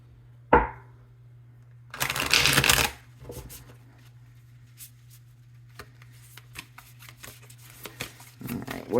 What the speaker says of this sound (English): So let's just shuffle this a little bit.